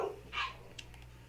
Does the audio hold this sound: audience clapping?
no